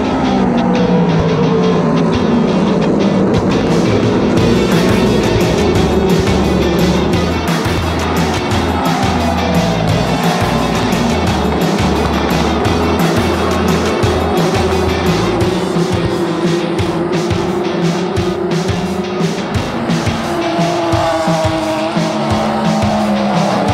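Sportscars race at the Sebring 12-hour endurance race, a continuous loud roar of engines with several cars blending together, rising and falling revs and tire squeal, heard close with no talking.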